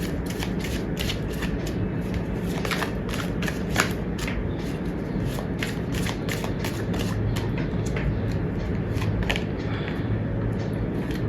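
Tarot cards shuffled continuously in the hands, a dense, steady riffling patter with quick repeated flicks throughout, close and with no talk.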